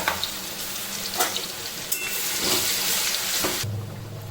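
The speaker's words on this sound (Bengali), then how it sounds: "তেল গরম হয়ে গেছে এতে পেঁয়াজ আর লঙ্কা বাটা দিয়ে দিলাম" Onion and chili paste sizzling in hot oil for frying, a steady close crackle with bursts of spatter that swell midway, then a brief low hum near the end.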